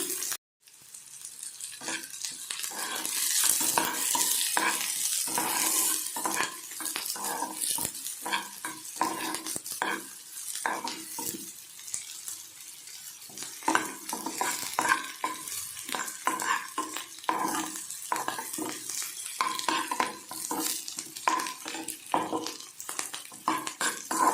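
Chopped onion sizzling and frying in hot oil in a pan while being stirred steadily, with frequent scraping and clinking of a utensil against the pan throughout; close and continuous, no talking.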